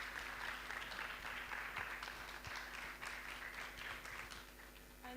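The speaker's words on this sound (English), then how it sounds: "let's start by just having a round of applause to start this beautiful afternoon session" An audience at an afternoon conference session in a university hall gives a steady round of applause, continuous dense clapping with a low constant hum beneath it.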